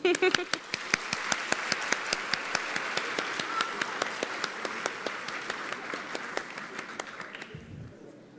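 An audience at a Brazilian education forum gives teachers another round of applause, clapping in a fast, even, rhythmic beat that stays steady for several seconds before stopping abruptly near the end.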